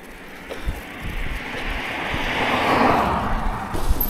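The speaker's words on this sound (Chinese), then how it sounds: "今天的风好像是有点大哦" Strong outdoor wind roars and buffets the microphone in a broad rushing swell that builds and gusts over several seconds, with no voices.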